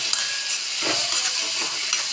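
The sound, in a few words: chickpeas cooking with masala on low gas flame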